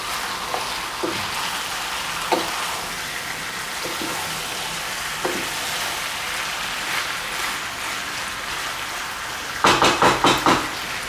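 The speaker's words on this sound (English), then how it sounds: "Just keep on stir frying." Chicken in curry spice sizzles steadily in a hot pan while a utensil scrapes and stirs now and then, followed by a quick burst of clattering near the end.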